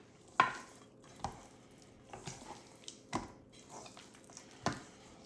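Breading for deep-fried baby back ribs is mixed in a bowl, producing soft irregular squishing and scraping thuds about once a second, close and fairly quiet.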